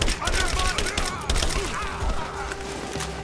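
Rapid gunfire from the video game Rise of the Tomb Raider during a firefight, with dense bursts of shots and impacts, crashes and thuds running steadily through the whole stretch at a loud, busy level.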